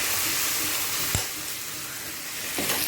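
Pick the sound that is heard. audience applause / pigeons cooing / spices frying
spices frying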